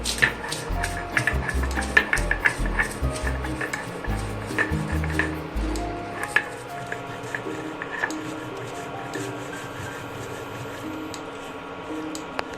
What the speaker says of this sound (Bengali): মশলাগুলো ভেজে নিয়েছি শুকনো খোলায়, এবার গুঁড়ো করছি।